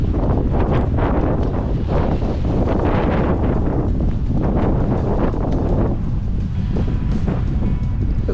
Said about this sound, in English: Bit wet and windy, but not so windy that it spoils the ride.